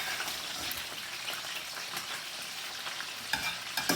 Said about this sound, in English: you can hear that's hot, and they're hot, so you're not bringing the temperature of the oil down